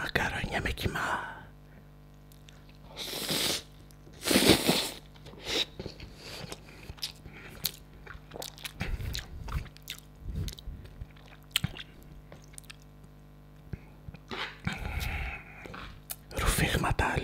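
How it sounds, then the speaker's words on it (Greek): Up-close wet, squishy chewing on a mouthful of spaghetti with minced meat, in soft bursts between stretches of near-silence, with whispered talk at the start and at intervals. "Πρώτη μπουκιά μακαρόνια με κιμά."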